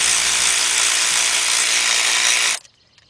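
A ratchet drives a T30 socket through a 3/8-to-1/4-inch reducer to back out the oil dipstick screw on a 2014 Volkswagen Beetle 2.0 engine. It makes a loud, steady buzzing rattle for about two and a half seconds, then stops abruptly.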